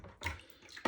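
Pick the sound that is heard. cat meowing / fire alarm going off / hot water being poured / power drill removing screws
hot water being poured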